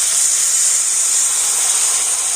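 Masala spices of turmeric, cumin and coriander powder hissing and steaming steadily in a hot pan just after a little water is added, a loud, even sizzle with no break.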